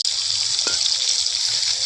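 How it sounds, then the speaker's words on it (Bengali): Onions frying in oil in a pan give a steady, close hiss that holds for the whole stretch, with one brief faint click partway through. "একটা তেলে পেঁয়াজ দিলাম, পেঁয়াজটা লাল হোক"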